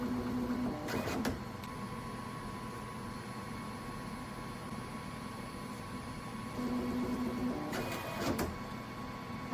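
A FlashForge Creator 5 tool-changer 3D printer loads filament, giving a steady mechanical whir and fan hiss with two louder motor bursts near the start and end, close by and with no talking.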